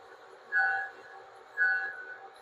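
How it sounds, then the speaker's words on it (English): Loud train, with two brief horn-like tonal blasts about a second apart over a steady low rumble, moderately close and without speech. "Let me get this train out of the way here, 'cause it's loud."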